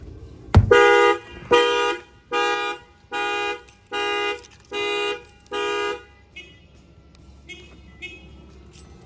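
A sharp thump on a wheel rim of a 2025 Toyota Camry, then the factory alarm, triggered by its shock sensor, blares in seven loud, evenly spaced honking bursts, followed by fainter chirps as the sequence winds down.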